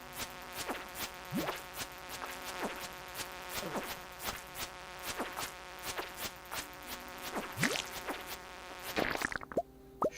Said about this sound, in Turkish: Artık arı mı diyelim, sinek mi diyelim.